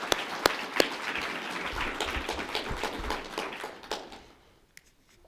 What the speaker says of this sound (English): I think we should applaud them one more time.